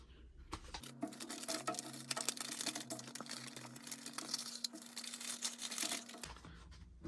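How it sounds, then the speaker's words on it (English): Paper being folded and slipped into an envelope for an AMSOIL oil analysis kit, with soft crinkling and rustling patter continuing for several seconds, close and fairly quiet, over a steady low hum. "Then we fold all this up and put it in to our envelope here."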